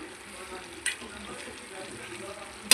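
Chilies fry in a pan for mirchi thecha, giving a soft, continuous sizzle at low volume, broken by a sharp tap near the start and another at the very end.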